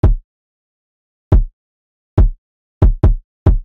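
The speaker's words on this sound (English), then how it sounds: "I have a really simple kick pattern that sounds like this." Simple trap kick drum pattern: six punchy, deep thumps spaced irregularly, the last few in quicker succession, alone with silence between hits.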